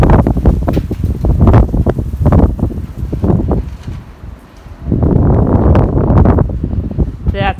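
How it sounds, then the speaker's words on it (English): Strong, gusty wind buffets the microphone outdoors during a VW Bus rotisserie build, roaring in loud waves with a lull midway before surging again. "the wind is just nuts today."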